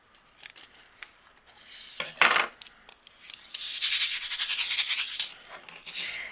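Scissors trim overhanging acetate sheet on a handmade card, giving scattered small snips and then a run of close, crisp rhythmic cuts and plastic rustling.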